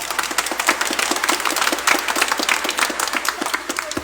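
Congregation at a Simbang Gabi mass in Quiapo Church claps loudly and rapidly, a dense stream of sharp hand claps with a low hum underneath.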